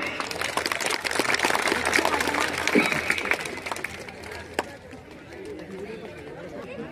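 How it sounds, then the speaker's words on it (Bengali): Audience clapping at a school reception honouring SSC 2024 GPA-5 students, a sustained wash of applause mixed with crowd chatter that rises, holds for several seconds, then thins out. "সবাই আমরা করতালি দেই।"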